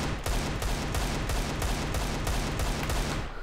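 Desert Eagle pistol firing in CS:GO, a steady run of about a dozen heavy, evenly spaced shots, loud and close with volume-equalized dense sound, no talking.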